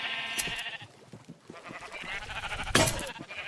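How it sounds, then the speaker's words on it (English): Sheep in Minecraft bleat a few times, short and fairly faint, over a soft game background, with one louder burst near the end. "I just sit here and shear sheep all the time."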